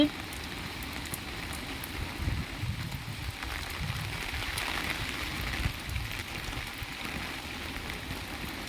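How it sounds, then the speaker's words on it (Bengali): Light rain keeps falling after a storm, a steady soft patter with a low rumble of breeze underneath, continuous and fairly close, with no voices. "এখনো বৃষ্টি হচ্ছে হালকা হালকা হাওয়া দিচ্ছে"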